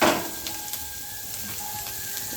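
Onion and chilli frying in mustard oil, a constant close sizzle with a scraping stir at the start and light spatula knocks scattered through.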